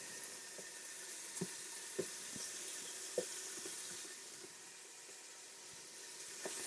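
Pork pieces sear in a little oil inside a Ninja 15-in-1 cooker, giving a quiet, steady sizzle and hiss with scattered soft pops and clicks throughout.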